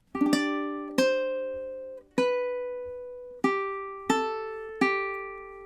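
Ukulele plays the next measure of a song, with a quick opening pluck followed by five more picked notes in steady rhythm, each ringing and fading, close and solo without talk.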